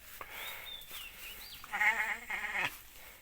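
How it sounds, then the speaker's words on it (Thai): A sheep in a farm pen gives one loud, wavering bleat in the middle of the clip, with quiet rustling before it. "แกะ"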